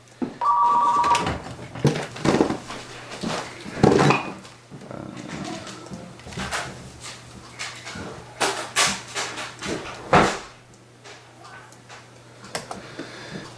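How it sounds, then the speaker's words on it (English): A telephone bell rings briefly near the start in a workshop during a Toyota Land Cruiser 3.4-liter 3B turbo engine build, then clattering, tapping and handling noises with a steady low hum continue, fairly close. "Oh, there goes the phone."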